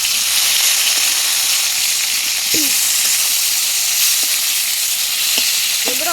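Rui fish frying in oil over medium gas heat, a loud, steady, close sizzle with occasional light clinks of a utensil and no talking.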